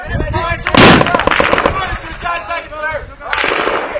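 Mortar fire in combat in Afghanistan in 2012 lands as two sharp, loud blasts about two and a half seconds apart, with shouting voices and rumbling battlefield noise between them.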